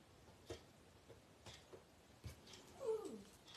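A small dog moans and whimpers indoors in a rising, wavering cry near the end, faint and close, with soft scattered taps from crafting work.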